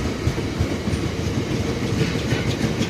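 A Heathrow Connect Class 360 electric train passes at Southall on the Great Western Main Line, a steady loud rumble with continuous clickety-clack of wheels over rail joints throughout.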